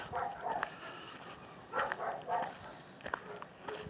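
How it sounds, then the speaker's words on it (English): Dogs bark outdoors in a neighborhood, several faint, distant bursts of barking spaced a second or so apart under quiet ambient noise. "Killer dogs."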